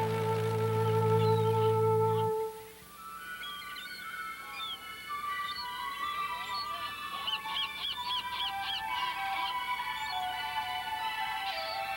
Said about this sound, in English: Here on Værø is a huge bird sanctuary where we find millions of seagulls, puffins, and other seabirds nesting